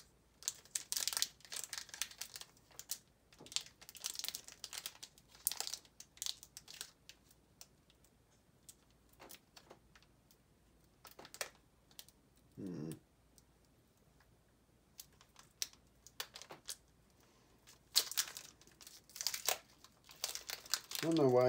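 A Pokemon TCG Lunala card pack wrapper being opened, with repeated close crinkling of foil in short bursts, quiet gaps in between and a louder rustle near the end.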